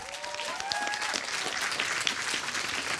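A crowd applauds at the opening of a conference on web series, steady full clapping throughout, with a brief whistle-like tone rising over it near the start.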